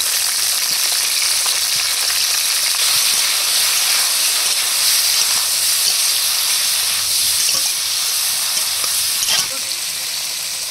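Okra pieces frying in a pan with a little salt and turmeric for a vegetarian thali, a steady, close hiss and sizzle running throughout with faint stirring clicks.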